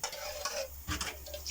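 A spoon stirs potatoes in a pan over a low sizzle, with soft scraping and a couple of faint clinks against the pan, close and quiet.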